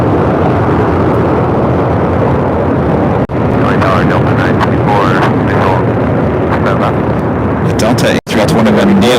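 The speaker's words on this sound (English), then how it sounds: "Next departure here on the Southside on 25 right is Alaska Airlines Flight 1372 heading to Cancun, Mexico" Alaska Airlines Boeing 737-800 departing LAX runway 25 right, a loud, rumbling jet roar that stays heavy throughout, overloaded and harsh, with two brief dropouts and a voice talking over it.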